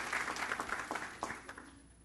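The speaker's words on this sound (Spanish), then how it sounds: "les brindaremos un fuerte aplauso" A short burst of audience clapping at a panel of the 2017 Internet Governance Forum in Peru, fairly close, thinning out into scattered claps as it fades.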